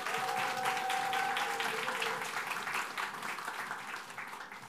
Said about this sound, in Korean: 우리 박 강도사님을 격려하는 의미로 박수로 맞이하겠습니다.